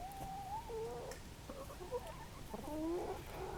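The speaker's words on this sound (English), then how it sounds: "I'm not sure why the chickens had to come over and see me this morning" Chickens clucking outdoors near a ground-work site, a string of close, bright warbling clucks and short calls with a rising squawk toward the end, over a steady low outdoor rumble.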